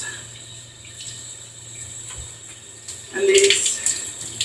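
Water from a hair wash running steadily down a drain, a close, continuous splashing wash that surges louder toward the end, with a brief voice speaking.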